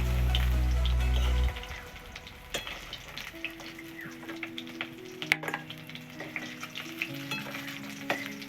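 Rohu fish in hot oil in a pan for a curry, a strong steady sizzle for the first second and a half, then a quieter crackle broken by sharp clinks and scrapes of a utensil lifting pieces out.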